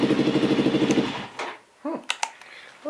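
A small quad four-wheeler engine running on a small battery idles with a rapid, steady putter for about a second, then cuts out, followed by a few faint clicks and knocks nearby.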